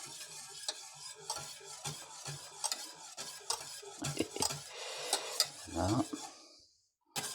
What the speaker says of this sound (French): je continue à remuer